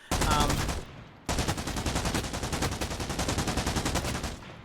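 Rifle fire from an M61 in the shooter game Arena Breakout Infinite: a brief full-auto burst, a short pause, then a longer rapid string of loud, evenly spaced shots close to the listener.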